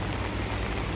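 Steady rain falling outdoors in Hong Kong during typhoon signal T10, a dense, even hiss of drops on surfaces with a low rumble beneath, continuous and fairly close.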